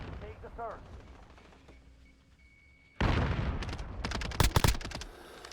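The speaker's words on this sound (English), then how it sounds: "the Striker 45 is a pretty good long-range SMG" Bursts of Striker 45 submachine gun fire in Modern Warfare 2019, loud rapid shots in the latter half after a quieter stretch with faint game sounds and a brief voice.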